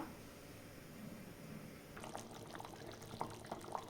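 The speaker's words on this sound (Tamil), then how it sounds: "புளி ஊற வச்சு எடுத்து வச்சுருக்கேன் கரைச்சி எடுத்துக்கலாம்" Soaked tamarind squeezed and dissolved by hand in water for a peanut curry, heard as faint, close wet squishing and sloshing that starts midway and continues in soft bursts, with no talking.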